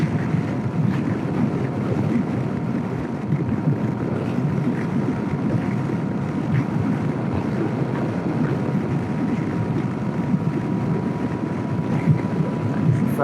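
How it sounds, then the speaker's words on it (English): Strong wind buffets the microphone while a scooter is ridden along a road, producing a loud, constant, low roaring rush with gusty fluctuations and no talking. "The wind is fucking blowing me off the road."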